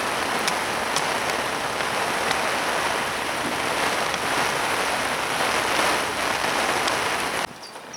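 A torrential downpour of rain falls at a fishing lake, and the hiss stays dense and steady for several seconds before it drops off sharply near the end.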